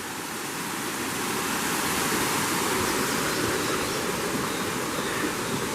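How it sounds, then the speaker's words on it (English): Steady, loud rush of flowing river water near a footbath area in Noboribetsu, Japan, a continuous broadband hiss with no breaks and no voices. "The soothing sounds of flowing water."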